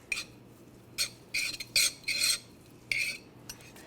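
A spaghetti squash salad seasoned with salt and pepper is stirred in a bowl, several short soft scraping and clinking strokes in irregular bursts against a quiet background, no talk.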